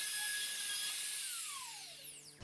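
A router cuts a shallow hinge mortise in a pallet wood door: a loud, close, high-pitched steady whine that, after about a second, winds down with a falling pitch as the motor coasts to a stop, with no voices.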